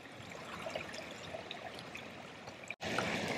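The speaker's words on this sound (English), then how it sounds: "A little waterfall action right there." Rainwater spills as a small waterfall down a deep channel, a steady close rushing trickle that carries on evenly, with a brief dropout just before the end.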